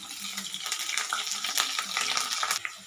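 Capsicum, green chilli and curry leaves frying in hot oil for lemon rice, a close, bright crackling sizzle with bursts of spattering as they are stirred.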